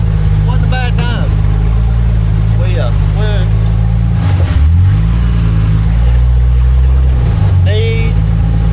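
A Jeep XJ engine rumbles steadily while cruising and crawling off-road after a race, with low-pitched revving that rises and dips, under intermittent talking and voices nearby.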